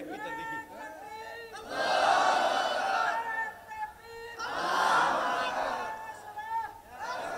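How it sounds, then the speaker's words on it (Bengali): A large crowd at an outdoor Islamic religious gathering shouts the takbir chant loudly in two long, swelling bursts, with a single leading voice calling between them. "জোরে সোরে তাকবীরের আওয়াজ দেন দেখি।"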